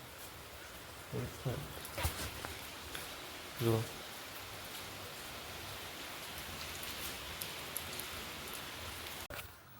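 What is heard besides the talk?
rain falling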